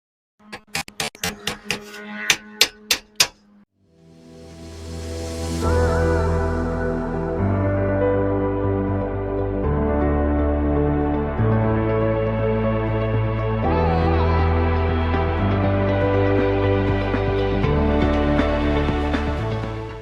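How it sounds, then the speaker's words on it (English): Nails are hammered into panels along the bottom edge of a fascia during an off-grid remodel, with about six sharp, rapid strikes at the start, then steady music plays for the rest. "I'll put a nail in each one on the bottom edge of the"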